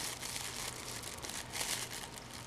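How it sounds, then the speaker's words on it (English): Scissors cutting all the way across a plastic bag into chunks to make plarn, with steady, close crinkling and rustling of thin plastic that runs without a break. "you cut all the way across the bag in what I think of as chunks"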